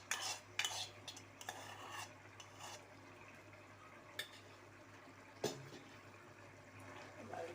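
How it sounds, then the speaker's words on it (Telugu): Gongura (sorrel) leaves being stirred into a boti (goat tripe) curry in a pot, with soft scraping and a few sharp clinks of the spoon against the vessel over a low steady background hiss. "గోంగూర వేసేస్తున్నాను."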